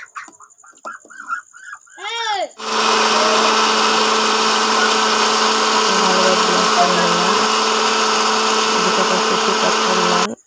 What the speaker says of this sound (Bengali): দই দেওয়ার পর আবার ব্লেন্ড করে নিব।